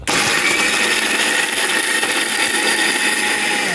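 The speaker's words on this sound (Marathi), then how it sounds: "रस्सा भाजी मिक्सरला लावते" An electric mixer grinder whirs loudly and steadily grinding masala for crab curry, a continuous high-pitched motor drone running the whole time without pause.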